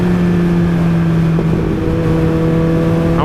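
A Kawasaki ZX-14 motorcycle engine drones loud and close at a steady pitch, then rises in a short rev near the end.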